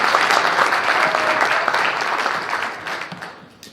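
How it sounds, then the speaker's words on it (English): Loud, sustained audience applause from a crowd, dense clapping that fills the room and gradually tapers off toward the end. "Guys, one more big round of applause for them all."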